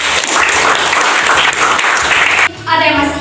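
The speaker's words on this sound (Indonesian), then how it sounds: "Baik, tepuk tangan." Classroom clapping bursts out loud and close for a few seconds, a dense patter of many hands, then drops away as a voice begins speaking.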